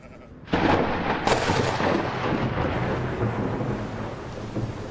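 Sheep bleating under a heavy summer downpour on the Swabian Jura, with a sudden loud burst of rain or thunder dominating the sound.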